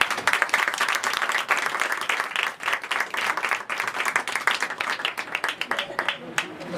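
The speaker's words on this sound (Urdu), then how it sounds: "آپ کی بھرپور تالیوں میں" A congregation in a Lahore church claps warmly to welcome a pastor to the pulpit, dense steady applause with individual claps standing out, fading near the end as a voice and faint music come in.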